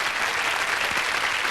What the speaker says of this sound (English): You deserve a big round of applause for coming up here.